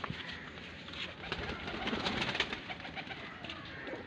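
Pigeons coo softly against a dense, steady background of chatter and bird noise, with no clear talking.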